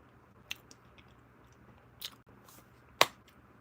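Someone bites into a crunchy fig bar from a military ration, three sharp crisp crunches spaced about a second apart, close and quiet otherwise.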